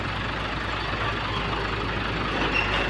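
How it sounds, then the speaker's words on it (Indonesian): A diesel truck engine labors up a steep hill, a loud continuous low rumble and drone that holds steady without pauses or voices. "ada truk kol diesel"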